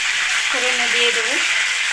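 Cumin, dried chili and bay leaf tempering in hot oil for a chicken curry with sour yogurt, a steady broad sizzle throughout with a brief voice speaking over it midway.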